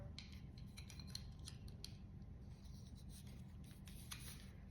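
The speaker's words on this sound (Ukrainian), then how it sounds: "ми відрізуємо, ми вже знаємо, яку нам довжину потрібно відрізати на пальчик" Scissors snip through tubular bandage cut to finger length in quick, rapid bursts of small metallic clicks and rustles, close but quiet over a low steady hum, with no voices.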